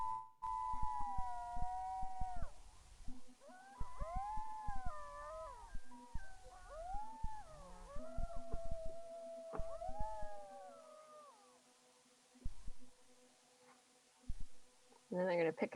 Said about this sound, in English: this is the approach of coyotes, like one lone coyote kind of howling and starting